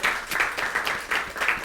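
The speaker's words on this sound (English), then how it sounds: "Round of applause to Rika." Applause for Rika at a writers' performance event, a short burst of many hands clapping in a small audience, steady and fairly close with no talking over it.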